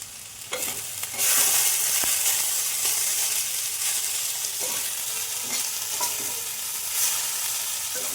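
Chopped green chillies fry with salt and turmeric in hot oil, a loud, steady, close sizzle and hiss broken by a few stirring scrapes, with no talking.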